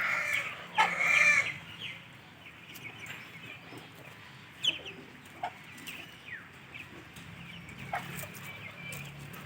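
A hen clucks outdoors in short, scattered bursts while chasing after a fish, some calls louder and nearer than others, over a quiet background.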